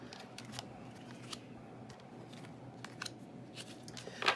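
Tarot cards being shuffled and drawn for a Scorpio love reading: soft, quiet riffling and crisp slapping snaps of card stock, several irregular bursts close up, without speech.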